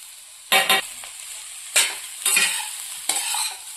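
Carrot sweet cooks in ghee with sugar while a spoon stirs the pan. Several sharp bursts of scraping and sizzling stand out over a steady quiet fry, close by, with no talk.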